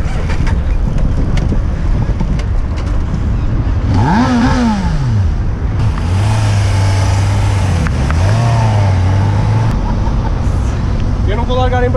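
Suzuki motorcycle engine on a Christmas ride with a breakdown, revving up and down in rising and falling sweeps, loud and close over heavy wind noise, with people talking over it.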